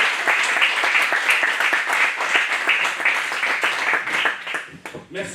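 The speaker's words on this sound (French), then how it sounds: "Je vous demande de faire un tonnerre d'applaudissements" A dense, continuous burst of audience applause at a comedy show in Muret, many hands clapping at once, loud and sustained before thinning out near the end.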